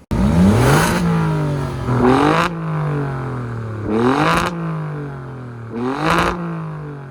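A black 2024 Alfa Romeo Stelvio Quadrifoglio engine revs hard four times, each loud blip rising sharply and falling back to a throaty idle between them.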